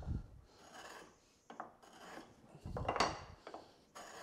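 A marking gauge's knife scores around the end of a wooden tenon, producing close, faint rasping scrapes in several uneven strokes with brief pauses between them, heard alone.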